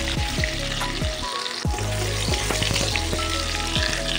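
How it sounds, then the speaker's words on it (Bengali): Chopped tomato fries in hot oil with ginger and garlic in a steady, close sizzle, with a spoon stirring and scraping the pan in repeated strokes; no voices. "এটা একটু ভেজে নেওয়ার পর দিয়ে দেব 2টো কুচিয়ে রাখা টমেটো"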